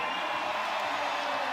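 A crowd at a women's lead climbing World Cup final in Chamonix cheers and calls out as a climber makes her moves, a brief continuous wash of distant voices under commentary.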